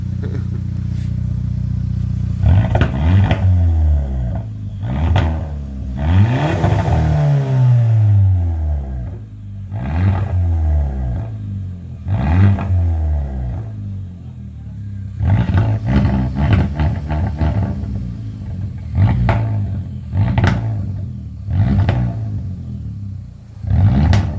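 Engine of a 2017 Hyundai Elantra Sport with a muffler delete, revved repeatedly, rising and falling in loud close throttle blips and longer pulls, with no talk.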